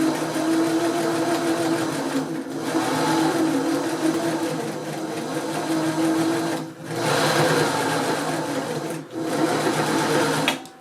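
A sewing machine runs steadily, stitching elastic onto fabric for a ruffled collar, its loud motor whirring in long continuous bursts with two brief pauses in between.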